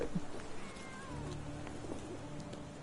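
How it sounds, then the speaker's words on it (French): A cat in the game Sherlock Holmes: The Awakened gives a few short, faint meows over soft street ambience, heard alone without talk. "Oh, un chat."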